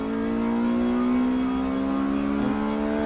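A race car at Snetterton circuit accelerates away, its engine note climbing steadily in a loud, continuous, close drone lasting the whole stretch.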